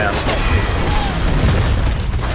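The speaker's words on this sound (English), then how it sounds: "Big bomb going off." A big bomb goes off in a competitive video game match: a loud, dense rumbling boom fills the whole moment, with excited commentator voices mixed in.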